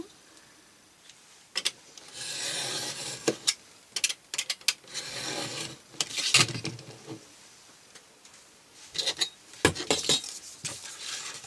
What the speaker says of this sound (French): je vais d'abord remettre un petit coup de cutter propre